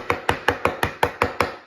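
A kitchen knife tapping sharply on a cutting board, eight quick evenly spaced knocks in under two seconds, close and clear with nothing else heard.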